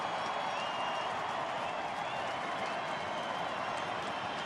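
A big stadium crowd at a Texas Rangers vs. Minnesota Twins baseball game claps and cheers in a steady, dense roar of applause that holds without a break.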